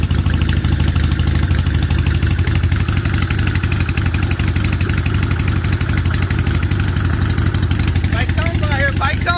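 Motorcycle engine idling while warming up, a steady close rumble running throughout with some clatter; people talk over it near the end.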